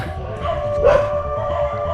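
Dogs at a Thai temple at night give a sustained howl that rises in the middle, with barking and yips underneath, loud and close.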